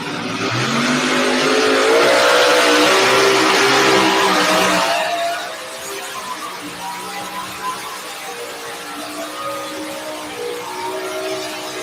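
A drag race car roars loud and near for about five seconds, with engine harmonics climbing through the pass, then drops away to a quieter, distant engine drone with faint track ambience.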